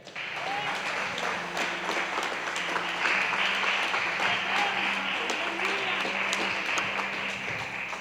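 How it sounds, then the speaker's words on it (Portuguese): Sustained applause from a church congregation during a December 2021 communion service sermon, steady and dense throughout, with a faint tone lingering underneath. "Aplauda os céus aí."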